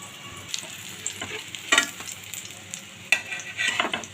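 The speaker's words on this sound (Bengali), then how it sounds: "এইভাবে বাকিগুলো ভেজে নিচ্ছি" Egg fritters frying in hot oil, a steady close sizzle broken by a few sharp scrapes and clinks of a spatula or slotted spoon turning and lifting them.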